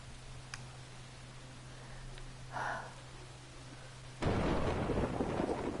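Rain falls with a distant thunder rumble in a video game storm, first a soft steady hiss, then an abrupt swell into a loud, dense downpour wash.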